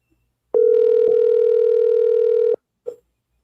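A telephone ringback tone on an unanswered call: one steady, loud buzzing ring lasting about two seconds, followed by silence and a brief faint blip.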